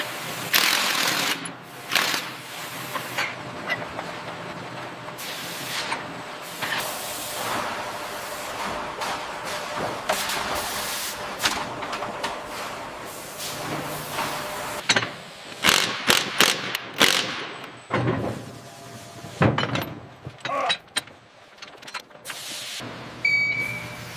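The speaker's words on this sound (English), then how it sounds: "Driving the mounting bolts now." Mounting bolts are power-driven on a Stryker infantry carrier vehicle in a factory assembly line, with repeated short rattling tool bursts, clicks and mechanical clatter spread irregularly over moderate background noise.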